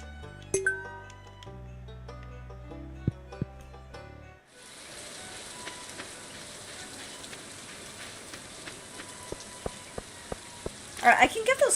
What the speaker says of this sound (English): I really like the rainy, like, aesthetic in this game.